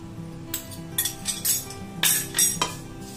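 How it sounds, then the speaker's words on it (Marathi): Powdered sugar and ghee being stirred into a sweet karanji filling in a bowl: repeated clinking, scraping spoon strokes in an uneven rhythm, close and fairly loud, with no voices. "पिठी साखर मिक्स करून घेऊ आपण आता"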